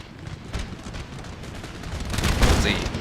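Massed musket line volleys in Empire: Total War (Darthmod), a crackling, rolling fusillade that swells and grows louder toward the end, set against distant battlefield noise.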